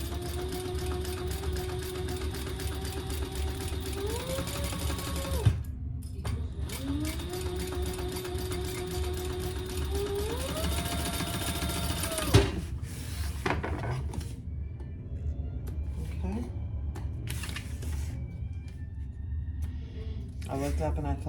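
A sewing machine top stitches a Pachira bag in close, whirring bursts that rise in pitch, pause and start again, with a voice speaking over the stitching.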